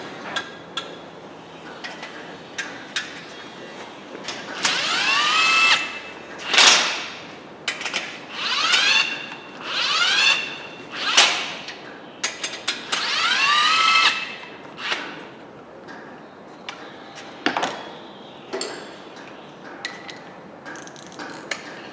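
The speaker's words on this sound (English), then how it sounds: "let me just get a couple bolts started since we got our silicone on here" A power tool spins bolts into the bed plate of a Dodge 4.7 engine during a bottom-end rebuild. Several close, whirring bursts of rising and falling pitch are each followed by ratcheting clicks, with short pauses between runs.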